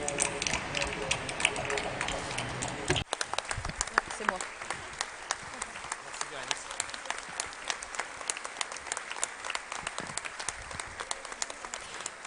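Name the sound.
audience applause at closing ceremony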